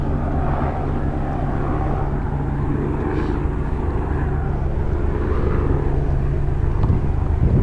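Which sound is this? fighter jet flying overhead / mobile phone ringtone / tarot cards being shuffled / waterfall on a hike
fighter jet flying overhead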